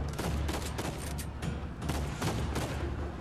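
Video game gunfire in Uncharted 4: dense, rapid bursts of loud shots repeat across the whole short stretch with no pauses, close and harsh.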